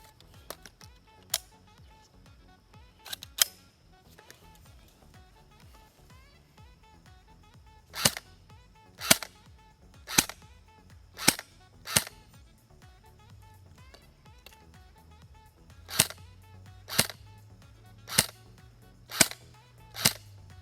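An LCT airsoft rifle fires single shots through a chronograph, sharp close cracks spaced about a second apart in several runs with quiet gaps, no talk.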